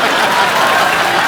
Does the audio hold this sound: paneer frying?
no